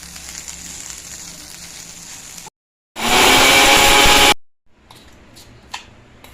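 Mixer grinder pulverizing roasted curry leaves, black pepper, cumin and salt into powder, a loud steady whirring burst of about a second and a half between quieter stretches of kitchen background.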